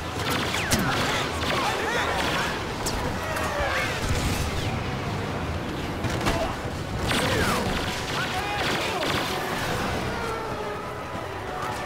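In Star Wars Battlefront on Jundland Wastes, a gun turret keeps firing amid a busy battle, with steady rapid shots, crashes and explosions under continuous game noise, and a player talking over it.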